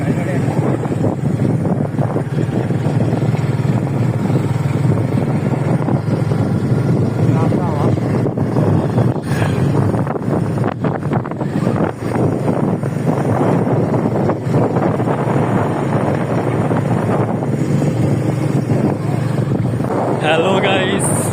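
A new Suzuki motorcycle rides along a road past jute fields, its engine drone steady and close, buffeted by heavy wind noise throughout, with people talking over it.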